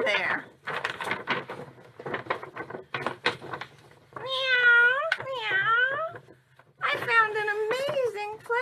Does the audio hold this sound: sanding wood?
no